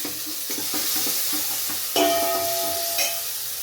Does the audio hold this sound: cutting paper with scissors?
no